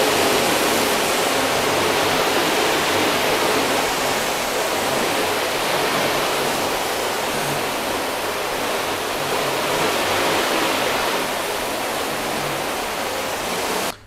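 A water hose rinses down a freshly washed car, giving a loud, continuous rushing spray that stays steady for about fourteen seconds with no voices over it.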